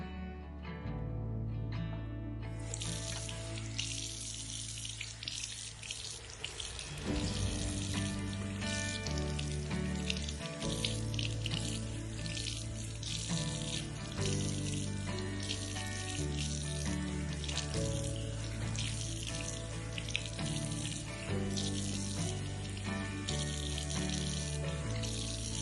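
Steady bathroom tap water runs loud and close for the whole stretch, splashing into a sink while lukewarm water washes off a face mask, with the flow shifting slightly as hands move under it.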